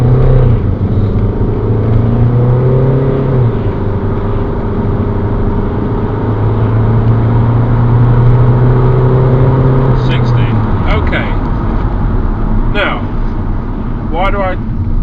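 A 2003 Ford Galaxy Zetec TDI automatic diesel people carrier pulls away hard from a standstill, its engine droning and rising through the run as someone talks over the cabin noise.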